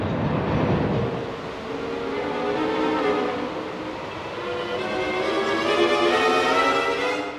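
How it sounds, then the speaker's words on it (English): Freight train of steel-built hopper cars in Northwest Texas service, rolling past with a steady, continuous rumble and metallic wheel drone that swells and eases, no voices. "This train of steel-built hopper cars was owned by the Swindell Dressler Energy Supply Company to serve Northwest Texas."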